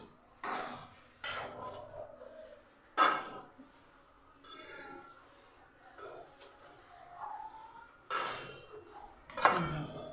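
A utensil scrapes and clanks against a pan while a sweet mixture with cashews and almonds is stirred nearby, giving irregular metallic knocks and clatters between quiet scraping stretches, with faint voices in the background.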